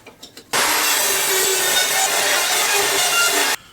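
A few brief taps, then a table saw bites into wood with a loud, steady, high whine for about three seconds before cutting off abruptly.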